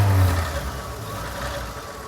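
The straight-six engine of a 1949 Chevy runs at a smooth, quiet idle with a steady low hum, after a brief louder surge at the start.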